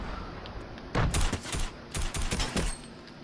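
Fortnite Battle Royale gunfire comes in quick, close bursts of rapid shots, with two or three clusters over a few seconds.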